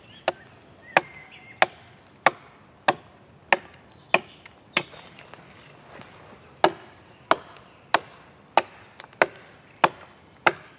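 Axe blows chopping wood outdoors at a family forge, a steady series of about fifteen sharp, loud thuds spaced under a second apart, with no talk.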